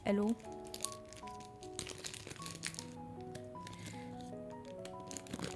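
A plastic bag from a Shein order crinkles and rustles in close handling, with sharp crackles and scattered crunchy bursts throughout, mixed with musical tones in the background.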